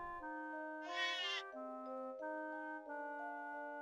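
Harvest Moon: One World sheep bleating in-game, a short wavering electronic bleat over a steady looping background melody, with no voices.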